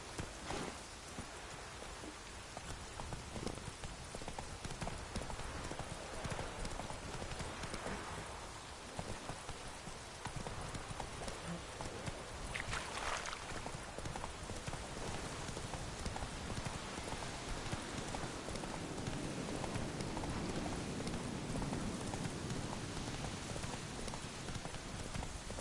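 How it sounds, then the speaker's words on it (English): Steady, heavy rain pours down across the whole stretch in The Witcher III video game, a dense hiss with occasional rhythmic hoof-like clopping and a brief gust partway through. "This downpour's a bastard,"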